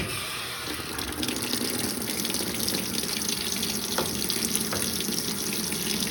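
Water rushes steadily into a washing machine drum on a quick wash cycle, a constant close hiss and gush with a couple of faint clicks, no voices.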